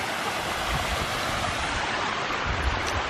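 Rain-swollen waterfall at Giant City State Park pours in a steady, dense roar of rushing water, close and loud, unbroken throughout with no voices.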